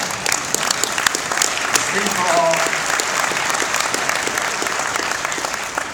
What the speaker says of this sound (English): Biggest applause so far.